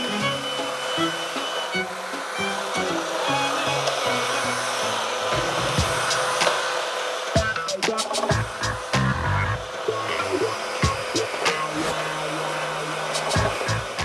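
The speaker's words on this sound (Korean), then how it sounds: "청소기 돌리신다." A household vacuum cleaner runs indoors in a ground-floor home, a steady whirring drone with bumps and thuds as it moves around, fairly close and continuous.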